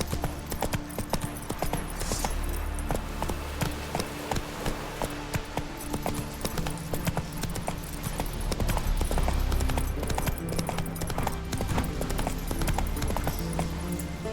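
Hooves of Roach, the horse in Witcher 3, clip-clopping in a steady rapid rhythm for the whole stretch, close and moderately loud over a low rumble of movement.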